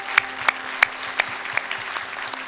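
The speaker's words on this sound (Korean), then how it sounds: "우리 하나님께 감사와 영광의 박수 올리겠습니다." A church congregation claps during a Korean Sunday worship service at Irvine Onnuri Church, a dense, moderately loud round of applause punctuated by a few sharp, distinct claps standing out close by.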